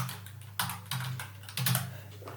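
Code tapped out on a computer keyboard, a few quick clusters of key clicks at close range over a low steady hum.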